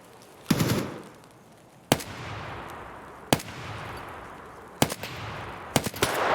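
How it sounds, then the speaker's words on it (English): Heavy gunfire near a roadblock in the Escape From Tarkov shooter game, five sharp, loud bursts spaced about a second or more apart, each followed by a rolling echo tail, with no talk. "there was some heavy gunfire"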